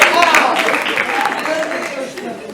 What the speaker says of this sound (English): A round of applause for our mommy